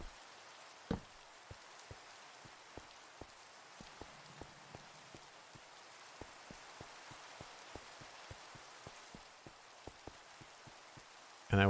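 Rain in a video game falls as a soft, steady hiss with scattered distinct droplet taps at an irregular patter, fairly quiet and continuous, no one speaking.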